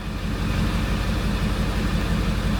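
A Mercedes CLK55 AMG with the supercharged M113K engine idles just after startup, with a check engine light on and a power-loss fault, giving a steady, close, low pulsing rumble with no talk.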